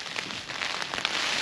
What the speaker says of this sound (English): it was hammering down with rain